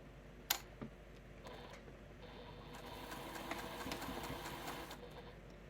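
A sewing machine stitching a small quilted mug rug: after a sharp click and a brief pause, a fast, steady mechanical whir runs for a few seconds, close but fairly quiet, with no speech.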